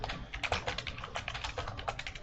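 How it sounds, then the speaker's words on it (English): Rapid, uneven keystrokes on a computer keyboard during live futures trading, a steady close-up clatter of taps with no speech. "I'm still typing."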